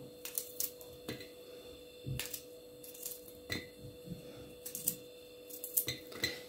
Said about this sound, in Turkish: 3 diş sarımsağım var. Şöyle doğruyorum.